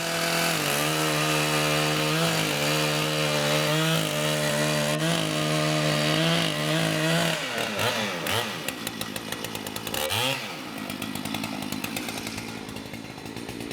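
A chainsaw roars at high revs nearby, then bogs down and surges as it bites into a large tree, its pitch dipping and recovering twice.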